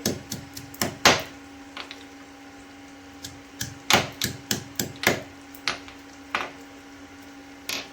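Garlic cloves are crushed with a heavy tool, producing sharp, irregular knocking thuds in clusters, close and fairly loud, with no talking.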